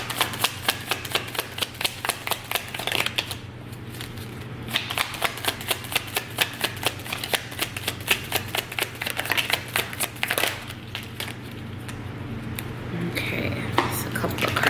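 A deck of tarot cards shuffled by hand in quick, rhythmic riffling bursts, repeated many times with brief pauses between, close and crisp over a low steady hum.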